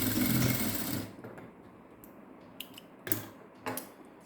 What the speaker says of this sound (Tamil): தையல் விழாமல் இருக்குது, நான் தையல் போட்டுக்கிறேன்